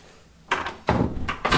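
Ordinary hinged door of an American Crescent private home elevator being opened, heard close up as a latch click followed by a few solid thunks and rattles in quick succession.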